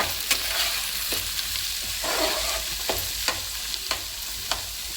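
Onion pieces stir-fried in a pan with chillies, giving a steady close sizzle broken by regular sharp scrapes and taps of a spatula, with no talking.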